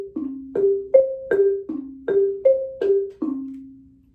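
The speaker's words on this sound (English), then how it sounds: "This xylophone is going to play the monkey in our story," A xylophone struck with mallets plays a simple bouncing two-note pattern of about ten clear, ringing wooden tones at a steady rhythm, close and bright with no talking.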